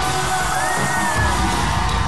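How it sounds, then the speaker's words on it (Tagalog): A packed indoor party crowd of guests at Wilton Beacon roars in a loud, sustained shout, with overlapping yells and whoops filling the whole stretch at a steady, near volume. "Lahat tayo dito, isang malakas na sigawan!"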